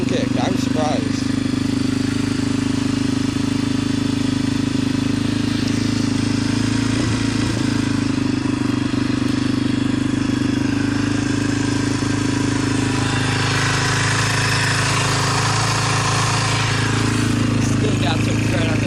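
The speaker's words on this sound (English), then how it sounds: "I just started it to let it warm up so the gas doesn't clog up everywhere" A Yamaha TTR125L dirt bike idles after a cold start, its engine giving a loud, steady, slightly uneven putter that runs throughout while a person talks over it.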